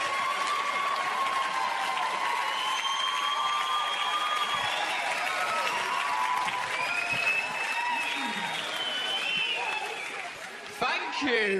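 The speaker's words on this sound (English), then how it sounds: "Thank you everyone at the Acne Empire for your clapping and that" A comedy-show audience in a large theatre applauds at length, a dense, sustained clapping that carries on under the comedian's voice and fades in the final seconds.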